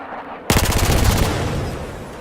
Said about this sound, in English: as the weapon lets out a very long burst or goes fully automatic